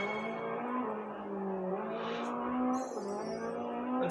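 Race car engines revving in the GRID Legends racing game, a loud, close, continuous engine drone whose pitch climbs and shifts through gear changes, with a brief tire squeal midway and no talking.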